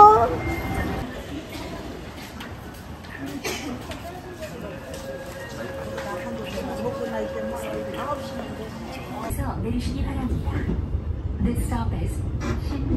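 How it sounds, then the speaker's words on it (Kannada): A metro train rumbles along with a steady mechanical hum and a rising roar near the end, while people talk nearby. "ಆ್ಯಂಡ್ ನಮ್ಮ ಟ್ರೈನ್ ಇದೆ"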